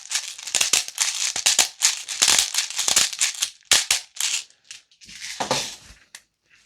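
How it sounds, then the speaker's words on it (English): A BB easy loader pushing plastic BBs into a VFC G36C gas blowback airsoft rifle magazine makes busy rattling and clicking bursts, close and fairly loud, in uneven spurts with short gaps and no talking. "I'm going to fill this. The easy loader makes this too much of an easy job."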